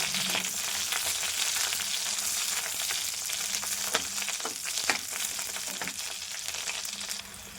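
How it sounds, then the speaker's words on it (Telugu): Green chillies fry in hot wood-pressed oil in a pan, making a soft continuous sizzle broken by occasional crackles and pops, with a few sharper spits and no voices. "ఆయిల్ కాగిందండి. పచ్చిమిర్చి వేస్తున్నాను."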